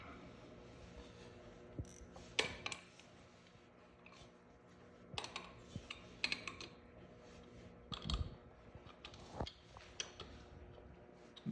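Wrench work snugging the three bolts on an aftermarket oil cooler being fitted to a CG250 motorcycle, heard as scattered metallic clicks and ratcheting taps at uneven intervals, close by, with no talking.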